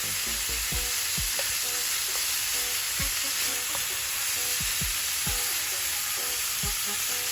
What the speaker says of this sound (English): So I'm using that same onion pan and just cooking up the ground beef.